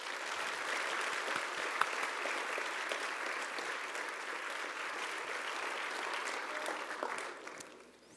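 Audience applause for Federal Reserve Chair Jerome Powell at the SIEPR Economic Summit at Stanford: sustained, dense clapping from a large room that holds steady, then tapers off over the last second.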